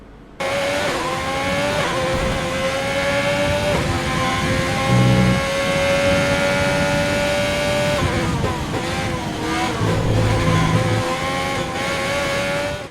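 High-pitched Formula 1 engines in the video game F1 2020 scream and shift gears in a continuous, loud stream, with tires squealing briefly in the middle and near the end.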